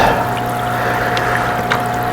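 Water at four degrees sloshes and trickles inside a classroom hatchery container as it is turned back and forth, a loud, close, continuous wash with faint gurgles.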